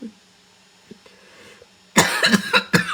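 A couple of harsh, close coughs burst out after a quiet stretch, loud and abrupt, about two or three in quick succession.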